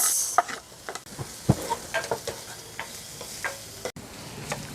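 Onion, ginger, garlic and tomato sauté in a pan for sardine sarciado, a crackling sizzle broken by irregular utensil scrapes and clacks, close and moderately loud.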